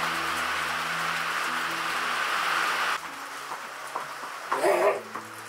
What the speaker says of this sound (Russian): А у нас дождик хлещет, капец какой. Гром такой ужасный.